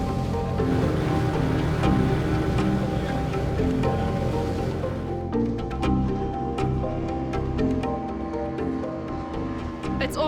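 Ocean waves off Cape Point, at the end of a peninsula jutting out past False Bay, roar and wash continuously with a broad, steady surf rumble and wind buffeting the microphone, with no voices.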